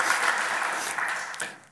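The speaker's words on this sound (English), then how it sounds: "I didn't expect applause here" Audience applause at a conference talk on a Haskell compiler, a steady burst of clapping from a room of listeners lasting under two seconds before fading out.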